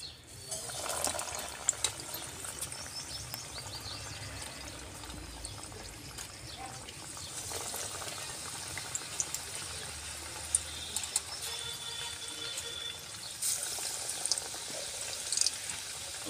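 Vada pav vadas, batter-coated potato fritters, frying four at a time in hot oil in a home kitchen, giving a steady bubbling sizzle throughout with a few sharper crackles.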